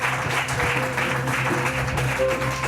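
Audience applause at a Christian testimony gathering, steady dense clapping that fills the whole moment at an even level, with a faint tone sustained underneath and no one speaking over it.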